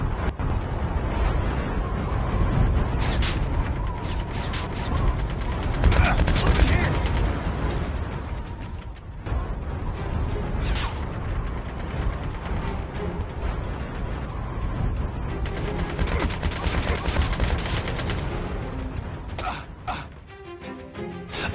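Gunfire in Call of Duty Mobile, with bursts of shots and mechanical clanks over a dense, busy game soundscape throughout, with a voice talking over it.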